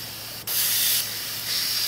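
Pressurized nitrogen hisses out of a mini-split heat pump refrigerant line, a steady close airy rush that jumps louder after a brief dip and wavers in strength, with no voices over it.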